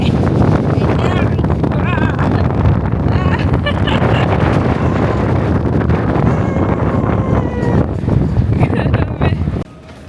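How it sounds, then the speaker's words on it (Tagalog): Strong wind in Busan buffets the microphone, a loud continuous roar and rumble that drops off sharply near the end, with voices faintly mixed in. "Ganyan kalakas yung hangin."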